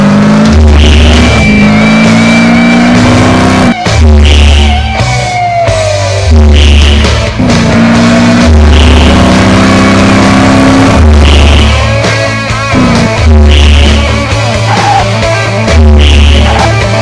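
A car accelerates hard during a test drive in Gangstar Miami Vindication, a loud engine roar rising and falling through repeated gear shifts, revving close and steady for the whole stretch.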